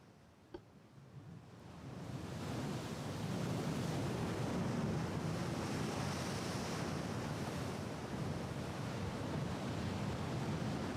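Gentle breeze and slight sea waves in the naval battle game Ultimate Admiral: Dreadnoughts, a broad steady wash of surf and wind that swells up after a quieter start and holds continuously.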